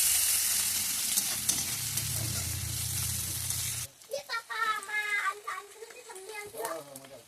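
Onion, dried chili, cumin and bay leaf hitting hot oil for tempering, loud broad sizzling that cuts off sharply, followed by stirring clatter and softer frying, with some voice underneath.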